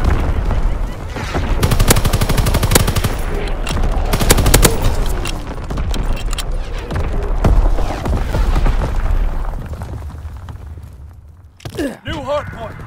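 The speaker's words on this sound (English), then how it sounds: "Firing primary battery." Artillery battery salvo in a World War II style shooter game, heavy booms and rapid gunfire rolling continuously for most of the stretch, then a quieter tail with a brief louder burst near the end.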